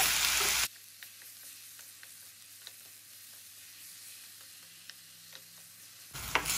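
Tomatoes frying with onions for a tomato gojju, giving a soft, even sizzle with scattered small pops and ticks between louder bursts of sizzling at the start and end, with no talk.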